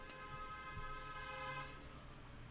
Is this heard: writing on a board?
no